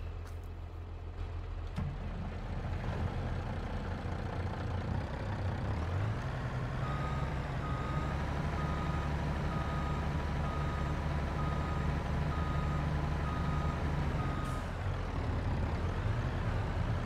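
Truck reversing in Farming Simulator 22 on the Edgewater Saskatchewan map: a steady, evenly spaced warning beep repeats for several seconds over a constant low engine rumble, with no talking.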